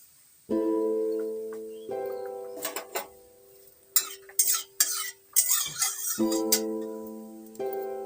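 Prawns being stirred and mixed with turmeric and salt for a Bengali jute-leaf prawn dish, with close scraping and clinking of utensil against a bowl in irregular bursts and a steady tonal hum running underneath.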